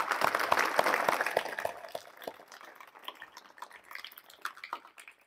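Clapping breaks out at a yoga and meditation talk in India as a thank-you, starting as a lively burst of many hands and then thinning into scattered, uneven claps that fade out.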